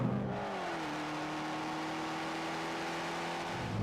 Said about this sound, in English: what is up with that exhaust note? That is exhaust porn.